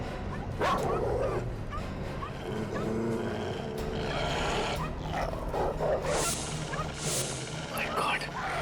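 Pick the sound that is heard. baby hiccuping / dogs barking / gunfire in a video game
dogs barking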